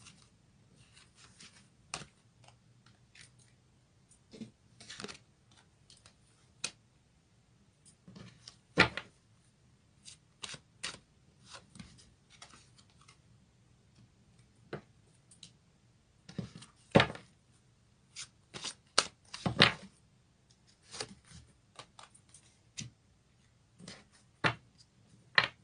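A goddess oracle card deck is shuffled in a quiet room, giving faint, scattered riffles and soft clicks of card stock in irregular bursts over a low hum, with no talking.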